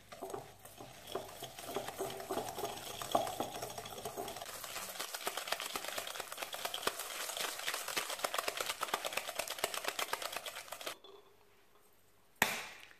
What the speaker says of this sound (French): زدت السكر ونحرك.